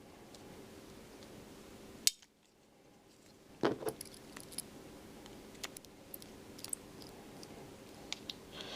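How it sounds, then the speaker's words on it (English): Small screws being undone on the retractable landing gear of a foam RC plane, a close, quiet run of faint clicks and ticks with one sharper scrape partway through. "Anyone that doesn't want to watch screws being undone, fast forward."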